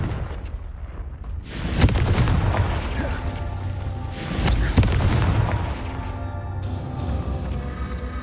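Confringo fire spell blasting in the video game Hogwarts Legacy, loud booming explosions with crackling bursts around two and five seconds, close and full, over a rumbling game soundscape.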